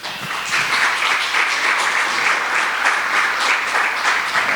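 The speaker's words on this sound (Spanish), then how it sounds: "Ay, esos aplausos están más aguados que nada." Steady church congregation applause for Jesus, a continuous wash of many hands clapping at an even level with no speech over it.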